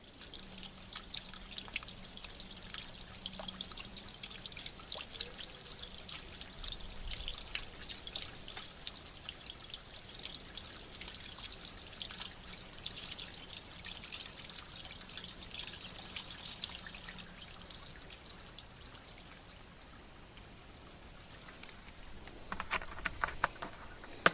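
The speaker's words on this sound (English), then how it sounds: "Try not to pour it directly on our wires, and pour it right down the well." Bleach from a gallon jug poured down a residential water well, a steady faint trickling and dripping of liquid running for the whole stretch, close by, with no talking.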